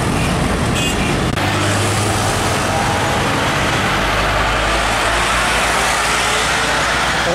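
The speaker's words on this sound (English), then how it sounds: "Tangki trailer Hino FM320 TI PT Raya Karya Transport." Hino FM320 tanker trailer truck carrying hydrochloric acid rumbles past on a road, a loud continuous roar of engine and tyre noise with a heavy low-end drone throughout.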